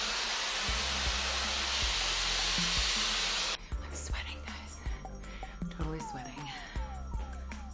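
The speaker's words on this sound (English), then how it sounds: "This Dyson diffuser and blow dryer" A Dyson blow dryer fitted with a diffuser roars as a loud, steady rush of air that cuts off abruptly partway through, leaving quieter handling noises and faint voices.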